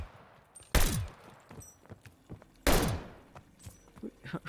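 Gunfire from a weapon in Call of Duty Vanguard Zombies, with two loud, sharp blasts about two seconds apart, each ringing out and decaying. Softer thumps and game sounds fill the gaps.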